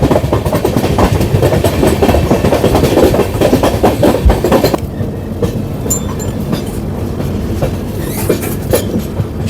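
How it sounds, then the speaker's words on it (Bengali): A train runs through the hills near Haflong with a loud, continuous rumble and clatter of wheels on rails, easing slightly about halfway through. "সাথে ট্রেনটা পুরোটা দেখা যাচ্ছে"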